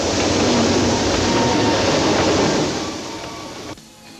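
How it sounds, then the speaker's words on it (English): A train coming head on, a loud, dense rumbling roar with rail clatter that holds steady, then fades and drops off abruptly near the end. "we've got a train coming head on to consider"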